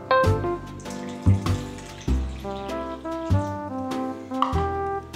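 Water from a cup pours into eggless chocolate cake batter in a mixing bowl, several short splashy pours with gurgling, bubbly tones, close and clear with no talking.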